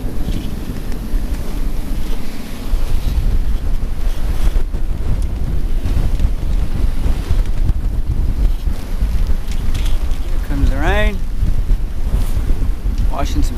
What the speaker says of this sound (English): A little rain, plenty of spray.